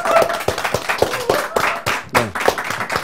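Studio applause greets a guest on a Korean talk show, with a small group clapping in uneven bursts that rise and fall over a few seconds, close and moderately loud.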